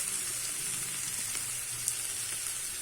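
Washed dried baby anchovies frying with tomatoes in a pan, a dense, constant hissing sizzle that holds steady throughout, close up, with no talk.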